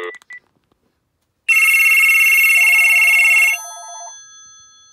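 A landline telephone in a basement rings loudly and electronically for about two seconds, followed by a softer warbling tone. A few short beeps come first.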